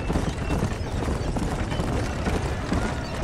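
Horse hooves clip-clop steadily at close range in the Red Dead Redemption game on PS3, with a whinny mixed into the dense, constant rumble of galloping; a voice briefly cries out.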